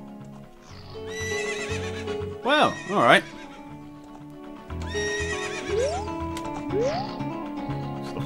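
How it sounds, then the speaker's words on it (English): Horses in Zelda: Ocarina of Time whinny twice in sharp bursts over a steady game melody and hoof clip-clops, with someone speaking briefly. "So the horses are having a chat."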